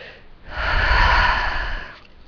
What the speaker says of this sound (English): Nice deep breath.